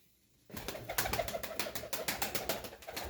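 Pigeons flutter and coo close by, with rapid rhythmic wing-flapping bursts repeating over a soft cooing background.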